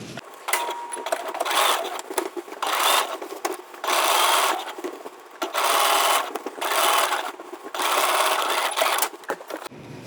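A sewing machine stitching to tack a facing down at the shoulder seam of a summery caftan, running in repeated loud bursts of rapid whirring separated by short pauses.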